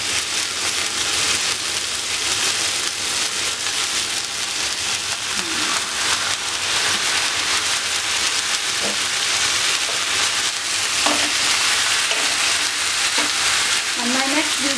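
Chicken liver frying in a pan with browned chicken pieces, a loud steady hiss and crackle of sizzling oil that carries on unbroken, with faint stirring clinks near the end.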